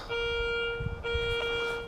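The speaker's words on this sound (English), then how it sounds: "I leave my detector on as I'm walking along, and because I'm walking along the path, it just beeps" A metal detector gives a steady electronic beep tone for nearly two seconds with a brief break, with faint low rustling beneath.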